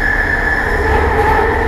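MRT or LRT urban rail train running with a loud steady rumble and a sustained high metallic whine from the wheels, close and continuous over the short stretch.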